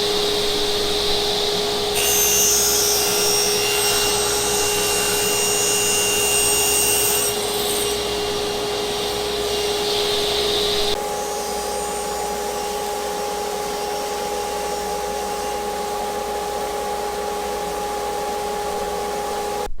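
A table saw cuts wood while a WEN 3403 dust collector runs, a constant loud motor drone with a steady tonal whine, a harsher buzzing cut in the middle that stops partway, then the collector hums on alone.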